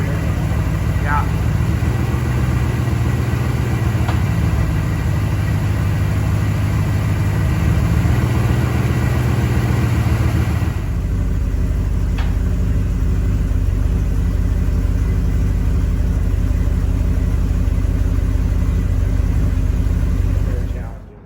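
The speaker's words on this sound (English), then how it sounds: "Warm-up regulators kicking in. Idle's coming down." A 1979 Porsche 928 idling after a cold start on a cold day, a steady low engine rumble that drops slightly in pitch partway through as the idle comes down.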